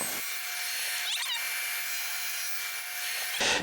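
A power tool cuts around a wooden box lid made from a log, a steady loud broadband whine running continuously for several seconds before stopping abruptly.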